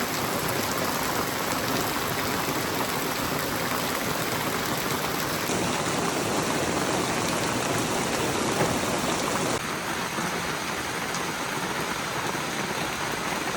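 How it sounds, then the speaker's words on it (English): Steady rain falls at a campsite, a dense, even hiss of drops pattering on surfaces close by, continuous and alone for the whole stretch with no voices. "It just started to rain a bit here."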